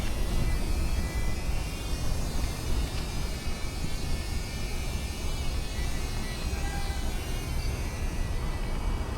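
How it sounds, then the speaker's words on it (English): A Flip drone flies near a boat docked in Halifax, Nova Scotia, giving a steady, dense whirring buzz that stays loud and unbroken throughout. "All right, this is the first drone flight."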